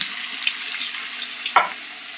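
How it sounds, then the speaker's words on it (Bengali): Soybean chunks dropped one by one into hot oil for deep frying, giving a steady bubbling sizzle with a brief louder crackle as a piece goes in, close and alone without speech. "সোয়াবিনগুলো আমার মা একটা একটা করে দেখো তেলে ছেড়ে ভেজে নিচ্ছে"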